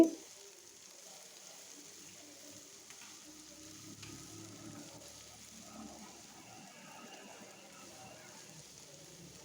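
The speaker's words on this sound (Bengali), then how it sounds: "ধনিয়ার পাতা দিয়ে আবার নেড়ে চেড়ে দিচ্ছি।" Cauliflower stalks fry in a pan and are stirred with fresh coriander leaves, giving a quiet, steady sizzle with soft scraping and stirring sounds throughout.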